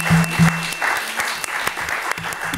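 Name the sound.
applause in a podcast game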